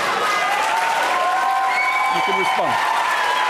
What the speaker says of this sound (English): I'm glad that the audience is cheering things I've written.